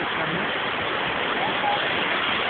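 Sea waves at Digha beach roll in as a steady, loud broadband roar of surf that never lets up, with faint voices underneath.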